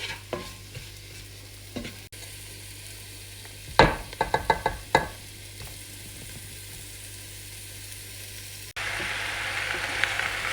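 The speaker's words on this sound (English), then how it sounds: "So we're gonna keep stirring this." Jamaican chicken curry, made without coconut milk or starch, stirred in a pot: a burst of close spoon scrapes and clatters against the pot, with a soft simmering sizzle underneath and no one speaking.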